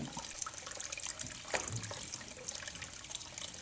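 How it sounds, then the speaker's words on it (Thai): Root vegetables rinsed under a running tap, a steady splashing flow of water close by, with hands moving the produce through the stream and no talking. "แล้วเราก็ล้าง ล้าง ล้างให้สะอาดแล้วก็เอาไปนึ่ง"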